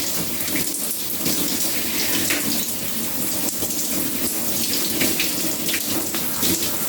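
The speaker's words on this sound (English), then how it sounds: "So when you're happy with it, you just rinse." Warm water pours steadily while shampoo bar lather is rinsed out of hair, a dense continuous splashing hiss close by with small fluctuations throughout and no voices.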